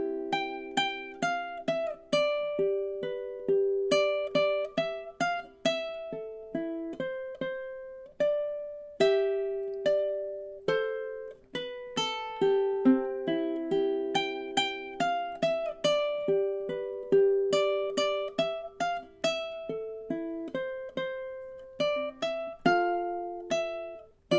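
Solo ukulele picking the intro of a song, a steady flow of plucked notes with melody woven into the harmony, bright and clear, close and unaccompanied for about twenty-four seconds.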